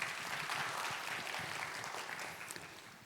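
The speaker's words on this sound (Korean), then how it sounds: "하나님께 영광의 박수 함께 하겠습니다." A church congregation at a Sunday youth service claps together in a dense, sustained round of applause that fills the room and slowly tapers off.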